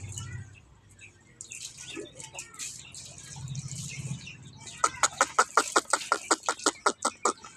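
A mother hen with her chicks, soft low clucking at first, then a run of rapid, evenly spaced high peeps and chirps from close by in the final seconds.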